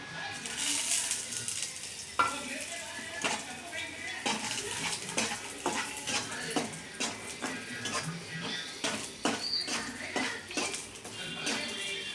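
Grated coconut roasting in a pan for Maharashtrian pathrode bhaji, with repeated scraping and clinking of a spoon against the metal pan and soft sizzling throughout, close and steady.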